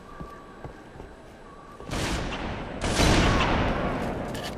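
Gunfire in Halo 3 multiplayer comes as two loud bursts, one after a quiet stretch and a stronger, longer one about a second later, each a rush of shots and impact noise.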